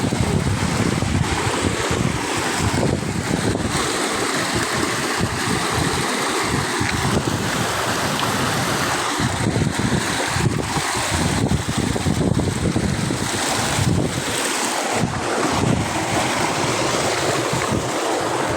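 Steady, dense rushing water roars continuously, a broad unbroken wash of noise with no talk, from a nearby waterfall at Balanga Falls.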